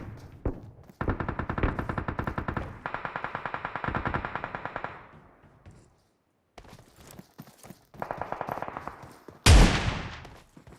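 Shotgun and rapid gunfire in the PUBG Mobile battle game, with loud, tight bursts of repeated shots in sequences, a pause, then more shots and a final sharp blast.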